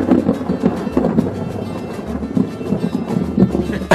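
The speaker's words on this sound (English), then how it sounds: "Okay, so I got my thunder." Thunder rolls through an outdoor landscape in Cuba, a loud, sustained low rumble with rough crackling textures that carries on for several seconds.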